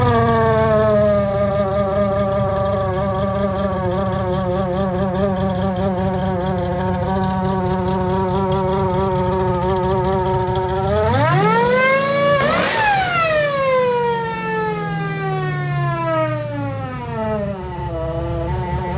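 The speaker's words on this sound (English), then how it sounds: "So what you're hearing is you're hearing the wastegates that are wide open" A loud, buzzing car engine with its wastegates wide open idles with a steady harmonic drone, then revs sharply up and falls back, a wailing, siren-like whine over the rumble.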